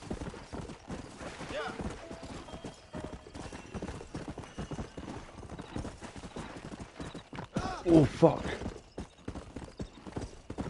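Horse hooves clip-clop steadily in the Red Dead Redemption video game, a rhythmic trot close by with a brief neigh near the end, while someone talks over the game sound.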